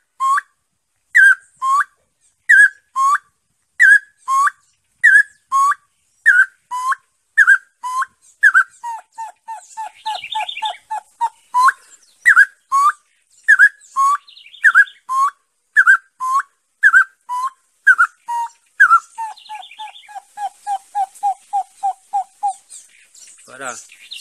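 A person whistles a series of short, evenly spaced bird-like calls imitating a common moorhen, with faster repeated notes in bursts between steadier phrases, close and clear.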